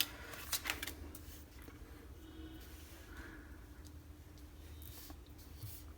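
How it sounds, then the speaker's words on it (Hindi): Tarot cards are handled and turned over during a reading, giving soft papery rustles with a couple of brief flicks near the start, all quiet and close with no voices. "ये कार्ड्स भी खोल देते हैं"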